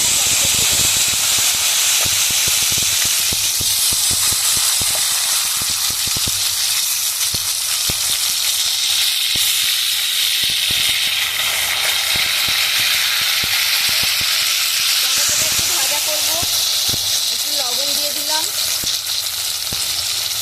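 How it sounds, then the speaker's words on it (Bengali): Chopped tomato sizzles in hot oil with bay leaf, cumin, nigella seeds and turmeric for a brinjal curry, a steady, loud frying hiss that runs throughout with occasional faint clicks. "টমেটোটা একটু ভাজা ভাজা হতে থাক"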